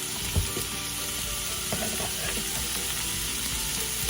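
Vegetables sweat in a skillet with a constant close sizzle and hiss, a few light stirring clicks and taps scattered through, no voices.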